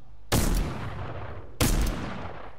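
Two loud pistol gunshots in the Fortnite video game, spaced about a second apart, each a sharp blast trailing into a long rumbling decay, with no talk.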